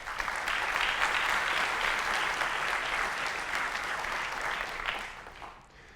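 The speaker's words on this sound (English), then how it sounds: "So round of applause for all the community guys." A conference audience claps steadily for about five seconds, a dense, even patter of many hands that fades out at the end, with no talk over it.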